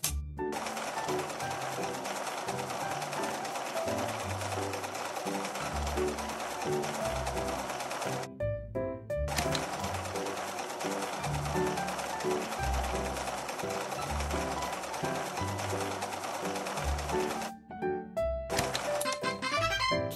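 Electronic sewing machine sound effect from a fashion dress-up game, stitching shorts as a steady mechanical whir that runs continuously with two short gaps, layered over bouncy background game music.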